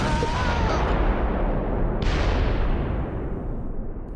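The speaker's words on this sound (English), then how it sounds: "A panzer is moving north, firing at the chateau" A panzer tank in the WWII strategy game Close Combat 4 fires at a chateau during the Battle of the Bulge at Wiltz, with a heavy, rumbling cannon blast and a second sharp boom midway, both rolling out loudly.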